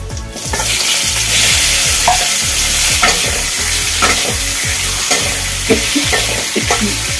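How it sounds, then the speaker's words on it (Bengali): Mango pieces are stirred in hot oil with two dry red chilies and five-spice seeds, making a loud, continuous sizzle broken by repeated scraping strokes of a spatula against the pan. "এইগুলো দিয়ে এর মধ্যে আমগুলো আমি হালকা নেড়ে চেড়ে নেবো"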